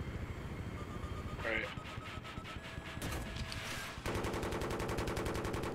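Rapid automatic gunfire rattles through a Battlefield match, dense bursts layered with a tank's rumble and distant shots, ending in a fast, steady stream of rounds, with voices talking over the action.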